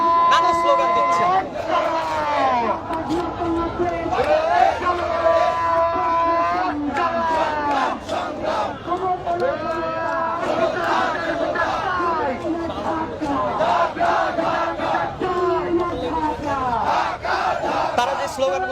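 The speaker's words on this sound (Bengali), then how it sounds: "তারা এই জাতীয় জাদুঘরের সামনে আসছেন এবং নানা স্লোগান দিচ্ছেন" Student protesters chant slogans in front of the National Museum at Shahbag, Dhaka: a loud, continuous massed chorus of voices with rhythmic call-and-response shouting over crowd chatter throughout.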